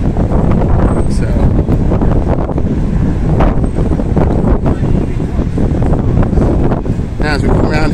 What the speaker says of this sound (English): Now as we come around here, very windy